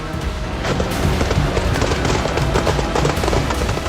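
A loud explosion in Zhytomyr, Ukraine, heard as a dense, continuous crackling roar with rapid popping bursts throughout, like a large fire with repeated small detonations, loud and close.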